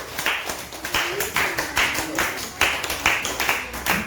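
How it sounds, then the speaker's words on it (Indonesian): A classroom of students claps for the needle group after a magnet project presentation, a steady run of many hands lasting several seconds, close and fairly loud, with a voice talking faintly underneath. "Berhasil kelompok jarum. Tepuk tangan dulu."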